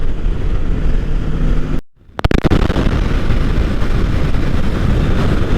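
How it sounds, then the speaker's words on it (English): A strong crosswind buffets a motorcycle rider on a bridge, producing loud, continuous roaring wind noise that cuts out abruptly for a moment, then returns with sharp pops and crackles before the heavy roar resumes. "this wind is freaking insane"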